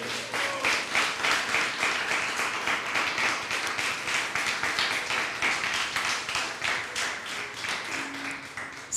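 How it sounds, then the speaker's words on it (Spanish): A church congregation applauds in sustained, dense clapping that holds at a steady, fairly loud level throughout, with many hands beating together in a continuous wash. "Y a su nombre, démosle un fuerte aplauso al Rey."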